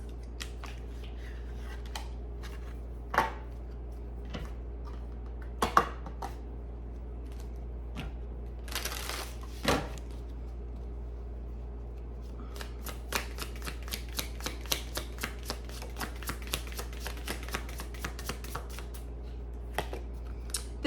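Tarot cards are handled and shuffled in a quiet room, with scattered soft clicks and rustles early on, then a quick run of crisp, evenly spaced riffling snaps toward the end.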